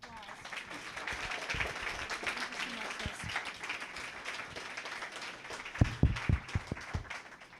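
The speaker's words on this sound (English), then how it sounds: "Let's give another round of applause." An audience at a human trafficking awareness event applauds in a sustained round of clapping, moderately loud, with a few sharper near claps toward the end.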